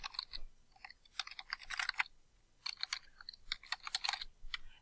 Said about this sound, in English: I type in a brief description.